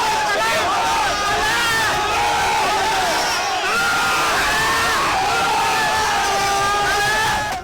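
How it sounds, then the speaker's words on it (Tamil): Fans crowd a polling booth in Tamil Nadu, chanting and cheering for actor Ajith Kumar as he arrives; a loud, sustained mass of shouts, whoops and excited voices fills the scene without a break. "அஜித்குமாரை பார்த்து தல தல என கூறி ரசிகர்கள் ஆரவாரம் செய்தனர்."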